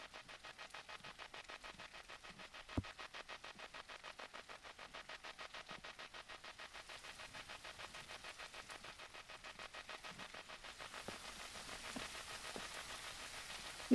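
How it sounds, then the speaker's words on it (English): Steady rain pattering on a surface, a dense even patter holding throughout with a few sharper drop hits, fairly quiet and close with no voices. "It's raining!"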